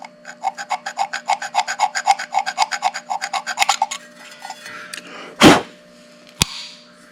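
Rapid rhythmic rasping strokes of sandpaper rubbed back and forth on a workpiece, about twenty quick scrapes, then a pause followed by a loud thud and a sharp knock.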